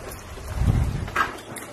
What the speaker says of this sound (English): it's raining pretty heavy